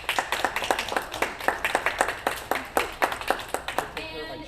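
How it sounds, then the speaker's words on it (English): A small classroom group claps for presenting classmates, a fairly close, rhythmic patter of hands that breaks off abruptly near the end as a voice starts. "So, we can give a big round of applause to this group."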